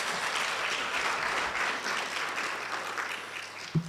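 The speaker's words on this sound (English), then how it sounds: "Let's give them again another round of applause." An audience at a literacy and numeracy report launch applauds in a continuous, even wash of clapping, fairly loud and close, with a low hum underneath.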